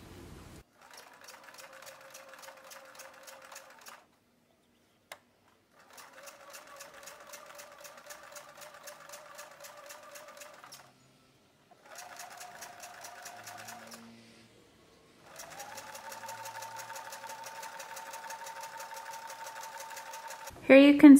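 A sewing machine stitches fold-over elastic onto knit fabric with a twin needle, running in several steady rapid bursts separated by pauses, close and fairly quiet with no talking.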